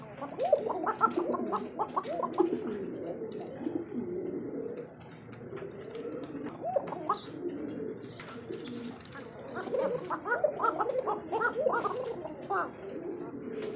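Male and female pigeons coo repeatedly in soft, throaty bursts, several birds calling close by, with a brief lull in the middle before the cooing picks up again.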